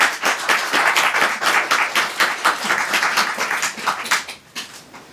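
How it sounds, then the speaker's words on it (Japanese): An audience at a live waka poetry event claps to vote for the right-hand side, a steady crowd of many hands at moderate loudness, fading a little toward the end, with no voices over it. "右方が良かったという方はどうぞ拍手をしてください。"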